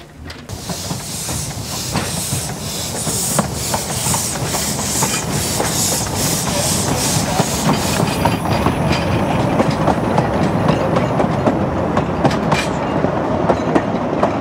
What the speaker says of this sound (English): And the narrow gauge railway is in action.